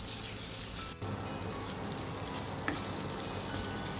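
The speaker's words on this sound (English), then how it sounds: "So we basically need to just saute this Thai paste in this oil till it gets a little more fragrant" Green Thai curry paste sizzles in hot oil while it is sauteed, a steady close crackle and fizz with occasional stirring scrapes, and no voices.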